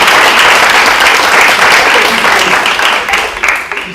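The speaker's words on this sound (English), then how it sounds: "Round of applause for my volunteers over here." An indoor audience at a recovery event breaks into loud, dense applause that holds steady for a few seconds, then begins to thin out and fade near the end.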